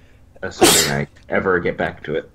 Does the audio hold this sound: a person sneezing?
yes